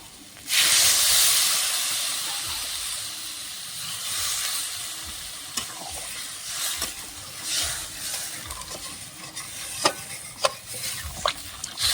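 Water poured onto potatoes, cauliflower and soybean chunks frying with spices sends up a sudden loud steam hiss that slowly fades into bubbling and sputtering, with scattered sharp crackles and stirring scrapes near the pan.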